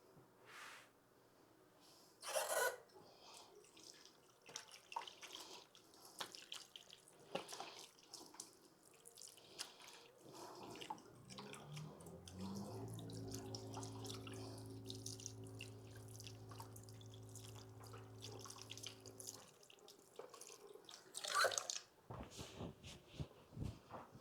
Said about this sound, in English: now we've got our hands all washed